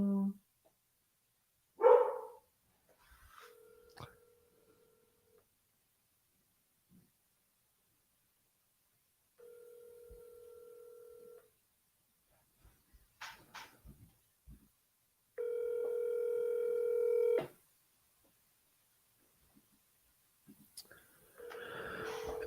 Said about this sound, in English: I'm calling my personal cell. Looks like it's dialing.